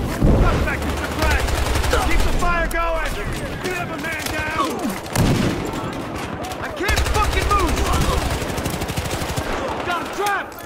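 Rapid automatic gunfire from the Battlefield Hardline video game, with dense, continuous bursts that keep going under shouted voices throughout, briefly easing near the middle before resuming at full volume.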